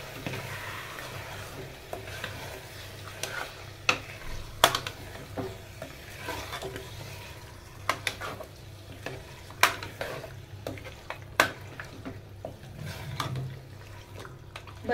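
Mutton and masala sizzle steadily in a hot pan while a spoon stirs, with frequent sharp scrapes and clinks against the metal over the constant frying hiss.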